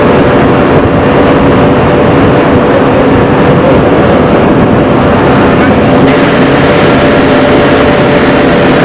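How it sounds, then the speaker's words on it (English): Heavy farm tractor engines drone continuously and loudly, a dense steady rumble with a constant low hum that fills the whole stretch without pause. "While you're still fairly accustomed to the overwhelming tractor noises"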